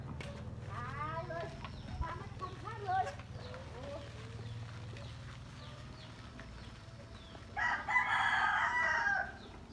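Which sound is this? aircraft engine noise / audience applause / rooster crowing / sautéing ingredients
rooster crowing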